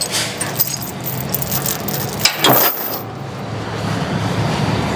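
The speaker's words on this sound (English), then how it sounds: "Alright, let me chain this thing down." Metal chains clink and jangle in scattered bursts, fairly close, as a big farm tractor is chained down onto a trailer, with one louder rattle midway.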